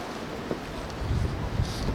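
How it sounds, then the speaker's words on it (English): Wind rushes outdoors on a stormy day ahead of snow, a steady rough roar that swells into stronger gusts in the second half, with no talking. "Today's a windy day. Another storm is blowing in."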